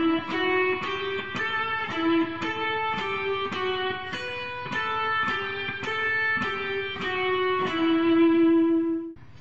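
Solo guitar plays measure 13 of Pachelbel's Canon in D, a steady run of clear plucked single notes with ringing sustain, close and moderately loud, with no talking.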